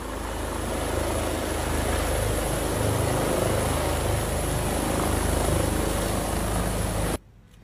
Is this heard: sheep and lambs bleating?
no